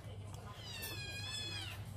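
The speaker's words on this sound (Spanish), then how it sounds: "Mira mi gatita chica." A small female cat gives a faint, drawn-out meow that rises and wavers, heard at a distance over a steady low household hum.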